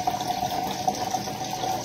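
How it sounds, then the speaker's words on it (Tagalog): Water is scooped with a dipper and poured into a cooking pot of sweet potatoes and bananas, a steady close splashing trickle running throughout with no talk. "Dalawang tabo yung sasabaw ko."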